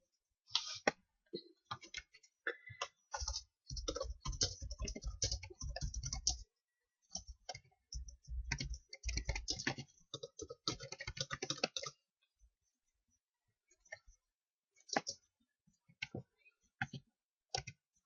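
Fingers type a telephone number on a computer keyboard, close and quiet, in quick bursts of clicking keystrokes separated by short pauses, with no speech.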